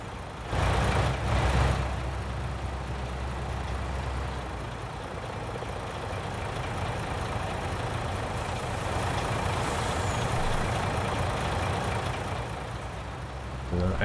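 Truck engine running steadily in Landwirtschafts-Simulator 19 on a Vorpommern-Rügen farm map, a continuous low rumble with a brief louder surge near the start, held at an even level throughout.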